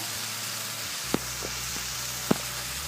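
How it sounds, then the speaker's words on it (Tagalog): Argentina small corned beef frying with bitter gourd in a pan, a steady close sizzle with a few sharp pops and light stirring knocks, alone without talk. "At this point in time, we are going to add our corned beef"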